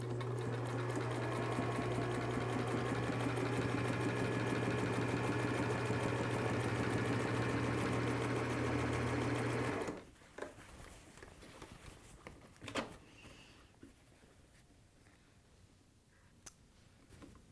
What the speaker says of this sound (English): we're going to sew from one end of the band to the other end.